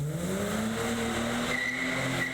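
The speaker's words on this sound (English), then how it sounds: "Sam Reisberg fired up one of 3 Nissan Skyline GTRs, just delivered from Japan in immaculate condition." Nissan Skyline GTR just delivered from Japan runs after being fired up, a steady, moderately distant engine drone with a slowly rising tone and a faint high whine, no voices over it.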